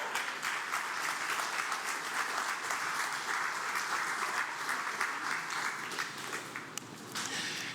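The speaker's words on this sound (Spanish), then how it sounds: "eso merece un aplauso, hermano" A church congregation claps together in a steady, moderately distant round of applause that continues for several seconds and then thins out toward the end.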